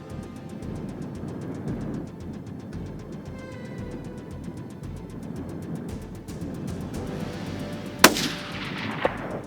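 A rifle shot at a large Colorado mule deer buck cracks once, sharp and close, over a steady rush of harsh wind, followed by a fainter metallic clack.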